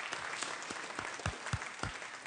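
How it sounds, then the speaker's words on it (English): Applause from members in a state Senate chamber during a floor session, a steady clapping wash with a few louder, distinct claps standing out near the end. "Members, one more round of applause,"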